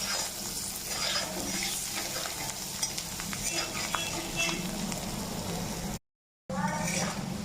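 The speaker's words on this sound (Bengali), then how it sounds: "এখন এই অল্প বড়া ভাজার তেলের মধ্যে একটি আলু ভেজে নিচ্ছি।" A potato fries in a small amount of used frying oil with salt and turmeric, a steady bright sizzle broken by scraping stirs of a spatula against the pan, close and continuous before a short gap of silence.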